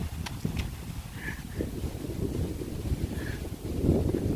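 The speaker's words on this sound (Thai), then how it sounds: "ฟังจากเสียงลมที่เข้ามาในนี้ก็ โอ้โห" Strong wind buffets the microphone in a continuous low rumble near a riverside at Wang Bon, Nakhon Nayok, with a few faint higher tones and knocks in the background.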